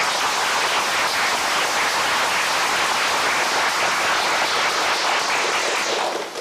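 Audience applause welcoming South Korea's land and transport minister at a broadcast journalists' club debate, a thick, steady wash of clapping from a large crowd lasting over six seconds with no talk.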